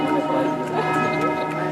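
Church bells ring during mass, their sustained metallic tones overlapping briefly and steadily with faint room noise and a voice underneath.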